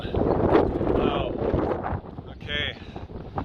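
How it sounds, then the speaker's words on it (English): Heavy coastal wind buffets the microphone in low, rumbling gusts in southern Italy, with a brief spoken word partway through. "It's very windy, as you can tell."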